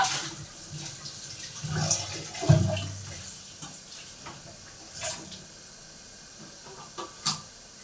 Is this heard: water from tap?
yes